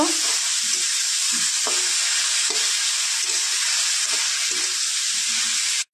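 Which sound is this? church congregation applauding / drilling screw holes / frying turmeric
frying turmeric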